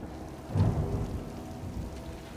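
Rain falls steadily in a stormy scene from the Star Wars series Andor, with a low rumble of thunder swelling briefly early on, a continuous dense hiss throughout, no talk.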